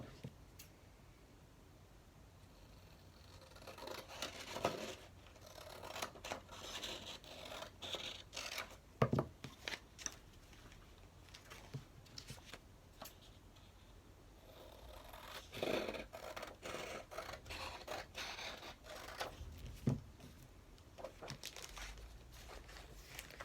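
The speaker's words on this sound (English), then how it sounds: "line it up to the bag, and you're going to cut approximately 1 to 2 inches off the width of it." Scissors cutting a paper bag, with soft repeated snips, scraping and rustling at close range spread across the whole stretch, fairly quiet with no talk.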